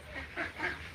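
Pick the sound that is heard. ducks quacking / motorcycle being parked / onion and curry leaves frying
ducks quacking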